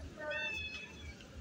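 A street cat meows repeatedly in front of a pizzeria while being fed outdoors, with a rising-and-falling cry sounding close and clear over low background rumble and faint voices.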